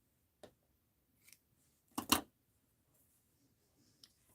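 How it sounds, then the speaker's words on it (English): Scissors trim a paper doll angel for a mixed-media art journal, giving a few quiet, close snips, with a quick double cut in the middle and a single small snip at the end. "Maybe trim it up this way a little."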